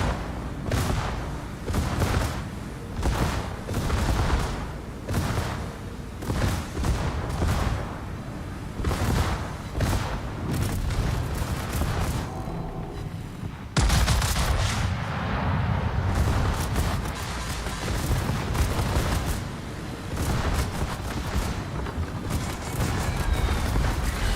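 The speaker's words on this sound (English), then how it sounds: "Watch this destroyer that I have locked on my secondaries right now. Watch how fast he gets shredded." Secondary guns on a warship fire at a destroyer in a naval video game, a dense, continuous barrage of booming shots in rapid succession that stays loud and relentless throughout.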